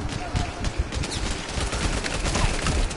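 Rapid machine-gun fire rattles continuously in the PSVR shooter Bravo Team, a dense, close barrage of overlapping shots sustained for the full stretch.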